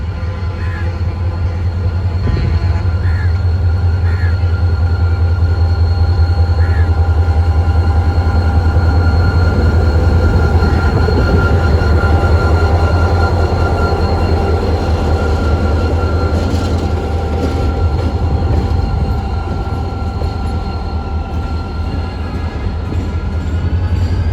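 A passenger train pulls out of Malir Railway Station with a loud, steady low engine rumble and rolling wagon noise, faint wheel squeals and clatter rising over about twenty seconds, with no clear talk.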